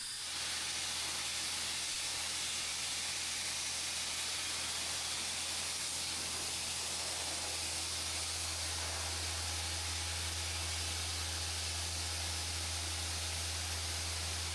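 Sandblasting on a Talbert 50 ton lowboy trailer deck, a steady broad hiss of blasting media with a low constant hum underneath, unbroken and fairly distant, no voices.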